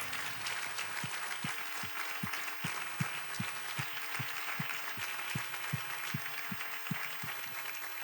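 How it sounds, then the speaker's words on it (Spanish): Rhythmic clapping from a church congregation, a steady beat of claps with a soft crowd hum behind it, moderately distant and even throughout. "yo en esta noche quiero que demos un fuerte aplauso principalmente al Señor"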